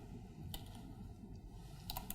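Brief computer keyboard typing while entering a web address, a few quick soft keystrokes over a steady background hum.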